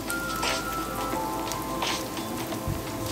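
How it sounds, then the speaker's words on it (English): Ham sizzles and crackles steadily in a frying pan as it browns and crisps for ham fried rice, a dense, continuous spitting hiss with no talking. "now we are going to fry our ham until it becomes brown and a bit crispy outside"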